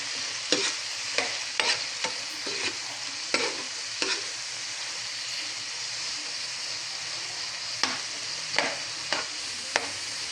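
Shrimp frying in a pan with a steady sizzle, broken by a series of sharp utensil scrapes and clacks as the shrimp are stirred, cooking until they turn orange.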